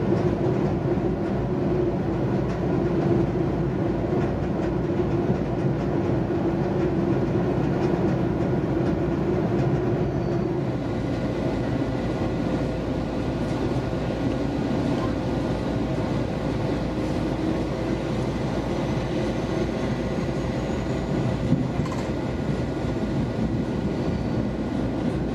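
Metrolink Arrow passenger train running on rails, a steady loud rumble and rolling drone that holds unbroken for the whole stretch, with no talk.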